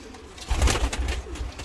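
Soft, low cooing of pigeons or doves close by in a coop at night, a brief murmuring call with some rustling around it.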